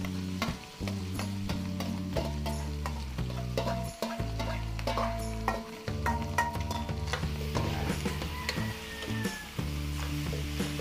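Chopped goat meat and innards hit a hot pan of fragrant sautéed aromatics, setting off a loud, continuous sizzle with stirring scrapes throughout, close up, with a steady musical tune running underneath.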